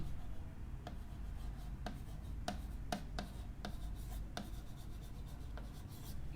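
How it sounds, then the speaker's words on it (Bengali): Chalk or marker strokes on a board during a botany lecture come as a series of short, sharp taps and scratches at irregular intervals over a quiet, steady room hum. "আমি ইংরেজি দিয়ে লিখি"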